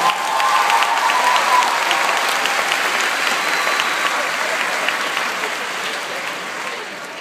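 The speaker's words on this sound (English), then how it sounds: "Please give yourselves a round of applause." Graduates at a commencement ceremony in Carnegie Hall break into sustained, loud applause from a large crowd, the clapping filling the hall and tapering off slightly toward the end.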